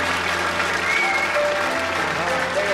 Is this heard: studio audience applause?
yes